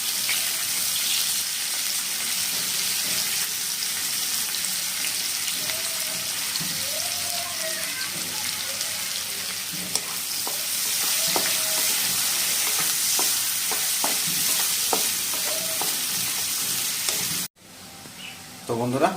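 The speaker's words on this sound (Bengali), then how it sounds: "আমাদের পেঁয়াজ কিন্তু দেখুন ভাজা হয়ে গেছে আর পেঁয়াজগুলো নরম হয়ে গেছে" Chopped onions sizzle steadily in hot oil in a pan, with a spoon scraping and stirring in repeated strokes throughout, then the frying cuts off abruptly near the end.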